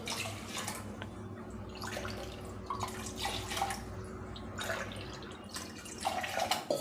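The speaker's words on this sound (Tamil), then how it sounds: "இதுக்கு வந்து 4 மடங்கு தண்ணி ஊற்றணும்." Water poured into a pot of foxtail millet and moong dal for pongal, a soft continuous trickle and splash with a low steady hum in the background.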